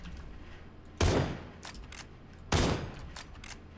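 Gunfire in PUBG on the Miramar desert map: two sharp, loud shots roughly a second and a half apart, each with a brief decaying tail, over quiet ambient game noise.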